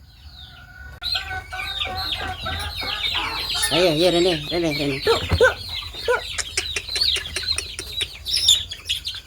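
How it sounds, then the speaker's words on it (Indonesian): Chickens cluck and squawk noisily at close range during morning feeding in a village yard, excited calls overlapping, while a woman calls to them in short phrases. "Wis tak makani ayam."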